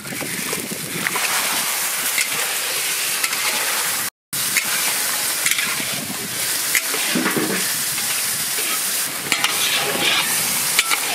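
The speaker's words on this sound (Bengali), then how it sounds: "ম্যারিনেট করা চিকেনটা দিয়ে দেবো।" Marinated chicken frying in a pan during a village lunch cook, a loud, dense, continuous sizzle with stirring scrapes close up and no voices.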